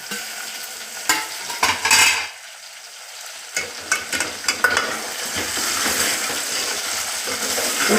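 Drumsticks (moringa pods) frying in oil in a pan for a dal dish, a steady close sizzle with a few sharp stirring scrapes and clatters early on, the hiss swelling louder toward the end with no talk.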